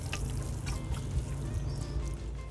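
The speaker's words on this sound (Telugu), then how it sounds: "లాస్ట్లో వాటర్ పోసేసుకుంటే సరిపోతుంది" Water poured onto soil in a plant pot of fenugreek seedlings makes a soft, continuous trickling and gurgling, close by and fairly quiet, with no talking.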